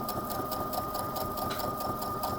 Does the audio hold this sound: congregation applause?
no